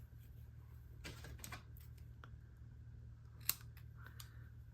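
Scissors trimming the ends of a paper card during stamping craftwork, a few quiet snipping cuts spaced over a few seconds, faint and close over a low steady hum, with one sharper click.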